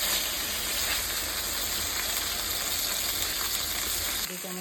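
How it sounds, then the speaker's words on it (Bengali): Ginger, garlic and onion paste fries in a pan with a loud, continuous hissing sizzle, close up and unbroken, cutting off just before the end. "আদা, রসুন, পেঁয়াজ বাটা দিয়ে আমি একটু বেজে নিচ্ছি।"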